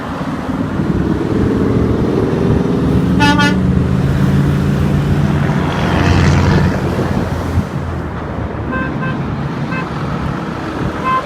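A big rig on the I-10 highway blasts its air horn in a short burst, loud over constant road and wind roar, followed by fainter honks from other passing traffic.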